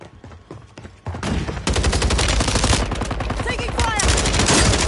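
Video game gunfire from a squad shooter, starting with scattered close shots and then building into a loud, dense stretch of rapid automatic bursts and overlapping shots that fills the rest of the moment.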